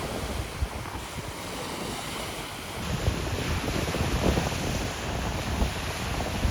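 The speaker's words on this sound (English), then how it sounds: "so much waves today." Waves on Lake Taupō washing steadily against the shore on a cloudy, choppy day, a continuous rolling surf with gusts of wind buffeting the microphone and no voices.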